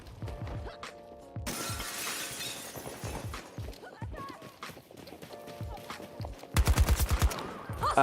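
Gunfire from an AK rifle in the video game Battlefield 2042: bursts of shots run through the clip, with a loud rapid burst near the end, over busy game sounds and a voice talking.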